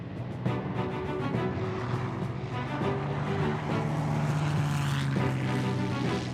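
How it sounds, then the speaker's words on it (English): Roar of a Spitfire's Rolls-Royce Merlin piston engine, a loud, steady drone with propeller throb that holds and swells slightly as the aircraft runs, with no voices over it. "to hear the roar of the Merlin engine, it's the most wonderful noise you can imagine"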